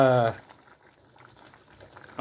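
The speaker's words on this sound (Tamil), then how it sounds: "எந்த அளவுக்கு தண்ணி கொதிச்சிட்டு இருக்குது, எப்படி இருக்குன்னு பார்ப்போம்." Water boiling in a cooking pot with salt, ginger and garlic, a soft bubbling simmer heard faintly between stretches of nearby talking.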